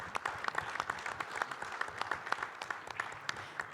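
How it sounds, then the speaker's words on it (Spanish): Applause from an audience at a weekly movement assembly in Ciudad Nezahualcóyotl, Mexico: dense, steady clapping from many hands sustained throughout, moderately distant with no speech over it. "pido un fuerte aplauso a los compañeros de Nezahualcóyotl"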